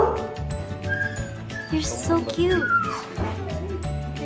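A puppy gives short yips and whimpers amid other dogs, heard through close, cooing talk from a visitor.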